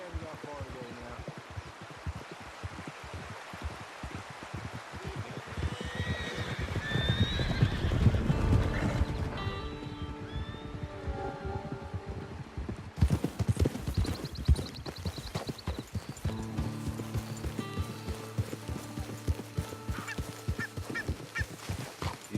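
Horses in Red Dead Online trot with clip-clopping hooves and neigh loudly, a sharp whinny rising midway over steady hoofbeats, then music and talk take over.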